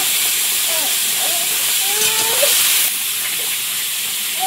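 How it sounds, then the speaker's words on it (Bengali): Garlic, panch phoron, shrimp and bottle gourd hit hot oil in a home kitchen, producing a loud, continuous sizzling hiss that holds steady throughout. "এই তেলের মধ্যে একটু রসুন দেবো, একটু পাঁচফোড়ন, চিংড়ি দেবো, দিয়ে লাউটা ঢেলে দেবো।"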